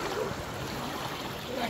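Dense, rushing water noise fills the short stretch, a steady broadband roar of fast current with no voices.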